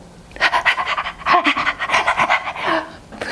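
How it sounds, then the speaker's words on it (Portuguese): Dogs panting close by in quick, rhythmic bursts of breath, steady and fairly loud across the whole stretch with no voices over it. "os cachorros vieram como? Abanando seus rabos e fazendo festinha"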